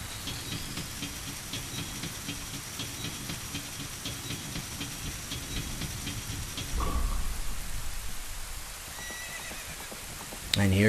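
A horse in Ocarina of Time neighs and gallops as a storm rolls in. Steady rain hiss runs throughout, with a louder shift partway through and a brief whinny near the end. A faint voice may sit under it.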